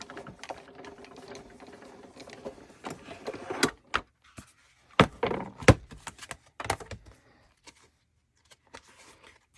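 Embossing machine rolling cardstock through a 3D embossing folder, with quiet mechanical whirring followed by scattered clicks and thunks as the sheet feeds through, close and fairly soft.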